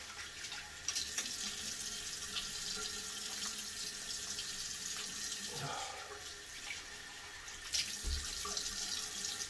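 A tap runs steadily to rinse during a head shave, a close, continuous splash of water with brief shifts as hands move through the stream.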